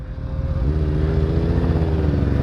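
A Honda CBR 500R motorcycle rides past on a residential street near a house, its engine note rising and sustained for a couple of seconds, fairly loud and close with no talking.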